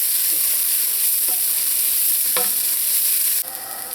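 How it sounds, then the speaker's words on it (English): Onions and scallions sauté for a curry seim and potato dish, making a loud steady sizzle with a few spaced spatula scrapes, then the hiss drops slightly near the end. "I'm going to saute this until the onions and scallions are tender."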